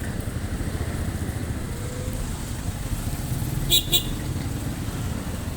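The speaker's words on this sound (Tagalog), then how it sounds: "Sobrang traffic dito mga ka-Chonggo." Heavy street traffic in Darangan, Binangonan, Rizal, with cars and motorcycles producing a dense continuous engine rumble and two short horn toots near the end.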